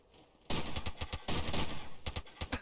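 Rapid gunfire in the video game SOCOM Combined Assault, online on the Devil's Road map: loud, close bursts of repeated shots with short gaps, rising abruptly from near silence.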